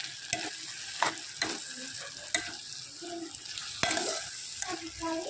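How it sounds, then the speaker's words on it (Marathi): A spoon stirs spinach with raw peanuts and moong dal in a sizzling pan, giving repeated scraping strokes over a constant frying crackle, close and clear with no voices. "आता हलवा"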